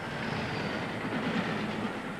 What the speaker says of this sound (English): they derailed a yellow test flask and drove a train into it at 100 miles an hour